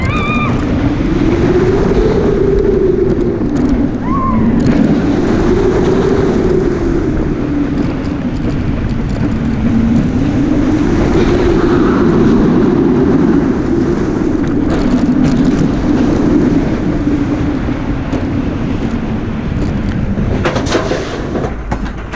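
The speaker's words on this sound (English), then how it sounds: "The other train is already leaving the station." A train pulls out of a station with a loud, steady rumbling drone that rises and falls in slow waves, a few faint squeaks and clanks over it.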